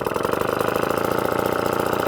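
A vintage Atco kick start lawn mower engine runs steadily nearby, its loud, fast, even putter and buzz filling the short stretch without any talk.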